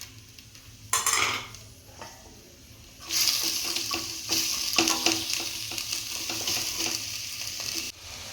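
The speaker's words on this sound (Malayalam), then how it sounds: "വെളിച്ചെണ്ണ വെച്ച് ഉള്ളി ഇതിലേക്ക് ഇടുക." Onions hit hot coconut oil in a pan for a samosa filling and burst into a loud, steady sizzle. Repeated scraping and stirring clatter against the pan runs for several seconds, close up and without speech.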